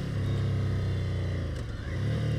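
A 2020 Ducati Scrambler Cafe Racer motorcycle engine revs in a steady, loud, close drone with a slight dip and recovery near the end, with no talking over it.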